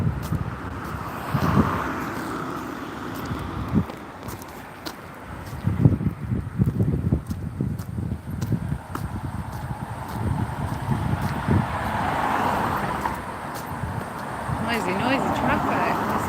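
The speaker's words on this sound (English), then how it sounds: "Noisy traffic." Road traffic on wet streets just after a rain shower, passing cars hissing and swishing by at close and middle distance, with wind buffeting the microphone and someone talking over much of it.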